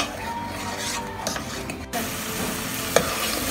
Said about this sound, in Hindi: अब इस मसाले को हमने पहले प्याज को और अदरक को अच्छी तरह पकाना है।